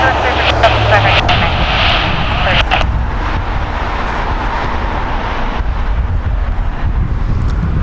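Jet aircraft taking off from runway 25 right at LAX, a loud continuous engine roar with wind buffeting, with radio voices over it.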